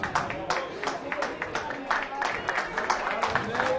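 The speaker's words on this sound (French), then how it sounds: "Sous vos applaudissements." At a French horse-racing award ceremony for a trophy winner, the crowd claps in a lively scattered patter while voices and chatter carry over the applause.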